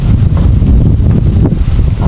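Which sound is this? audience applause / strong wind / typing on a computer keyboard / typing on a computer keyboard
strong wind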